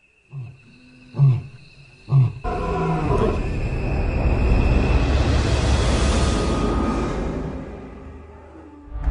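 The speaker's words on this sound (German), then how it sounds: "Noch ein Brüllen. Diesmal aus nächster Nähe." At close range, a lion in the African wild gives three short, deep grunts, then a long, loud, sustained roar that swells and slowly fades.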